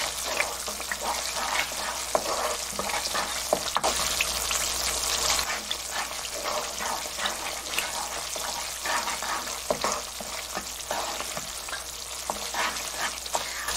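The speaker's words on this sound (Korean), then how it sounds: "제가 지금부터 요렇게 약한 불로 볶을 때 시간으로 봐드릴게요" Chunjang black bean paste fries on low heat in a pan, giving a steady close sizzle with intermittent stirring scrapes and occasional bubbling pops; no one talks.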